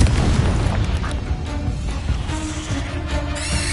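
Booming blasts of a Confringo fire spell from Hogwarts Legacy erupt close and loud, a heavy low burst that rumbles on and fades into crackling debris.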